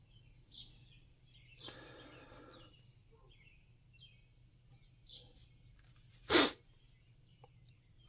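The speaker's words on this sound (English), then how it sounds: "You hear the birds chirping?" Birds chirp and tweet outdoors on a nice day, several faint, scattered calls over a low steady hum, with one louder burst near the end.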